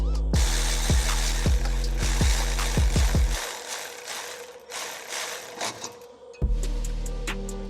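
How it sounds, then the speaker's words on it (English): A ratchet wrench tightening a bolt on a K&N cold air intake bracket in a Subaru BRZ engine bay, a rapid series of close, sharp ratcheting clicks, then a pause with faint rustling and a final short burst of ratcheting. "Now we have to tighten this bolt down because you won't have access to it."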